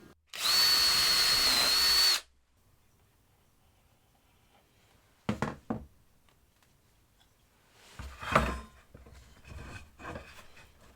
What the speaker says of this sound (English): now I can just get some pilot holes drilled in this and get it screwed together